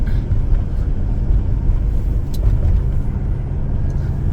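A Volvo XC90 with a turbocharged V8 drives along steadily with its boost overridden, giving a continuous low engine rumble and road drone close to the car, with no voices.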